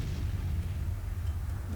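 Artillery fire in the Civil War strategy game Grand Tactician, a dense low rumbling boom that sustains without a break for the whole short moment.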